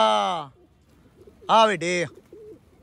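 Pigeons coo at a rooftop loft where newly released birds settle, their soft low calls mixed with a voice calling out to them nearby.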